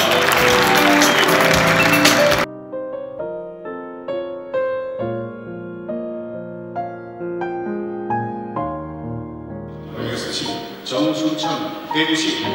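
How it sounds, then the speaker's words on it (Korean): Applause from an audience at the 2023 TBN Daegu traffic awards ceremony welcoming traffic correspondents, a dense burst of clapping lasting about two seconds that cuts off into sustained, tuneful ceremonial music. "같이 큰 환영의 박수 한번 부탁드립니다."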